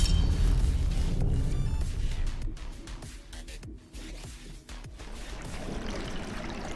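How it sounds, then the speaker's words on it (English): Rising water in Conan Exiles after a target is shot, a deep rumbling rush that is loudest at first, then thins into lower gurgles and thuds before swelling slightly again. "that's going to make the water rise up so we can actually get to the next bit"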